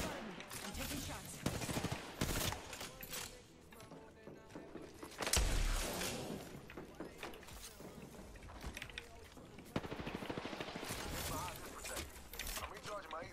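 Gunfire in a ranked video game: bursts of shots and impacts crackle in clusters over busy game sound effects, with a sharp loud hit midway.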